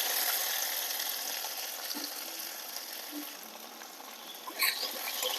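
Tomato and ginger paste masala cooking in a pan, with a soft, steady sizzle throughout and a brief louder stirring scrape near the end.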